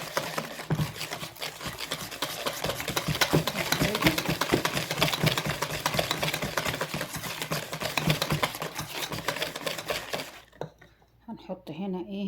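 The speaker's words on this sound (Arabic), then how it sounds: "حطيت الفانيليا والزيت واضرب جامد كده." Electric mixer whirring steadily as it beats butter, sugar, vanilla and oil into cookie dough, a continuous buzzing motor with rattling against the bowl that stops near the end; someone speaks over it.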